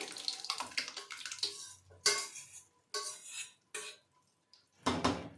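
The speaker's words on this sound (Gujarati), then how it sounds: "હવે આની અંદર આપણી બાફેલી બધી જ દાળ એડ કરવાની છે." Clatter and scraping of a spoon and metal cooking pot as boiled dal is tipped into it for Gujarati dal pakwan, coming in several short bursts with pauses between.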